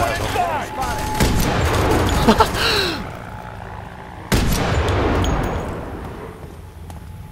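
Rifle fire in the shooter game F.E.A.R. 3, with loud bursts of shots and crackling impacts over the first few seconds, a pause, then another sharp volley that decays; a voice speaks briefly amid the gunfire.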